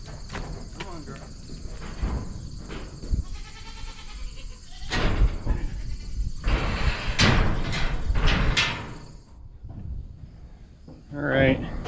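Goat kids bleat while being loaded for auction, with several loud, close calls in the middle and end amid shuffling, clanking and a person talking to them, while insects chirp steadily in the background.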